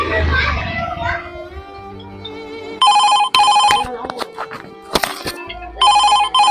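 A mobile phone rings in short electronic bursts, after a moment of talk, with pauses between rings and soft background sounds in the gaps, in a Kannada short film.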